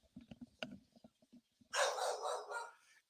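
Several short sounds come first, then a loud burst of dog barking takes over near the end, with overlapping barks at close range.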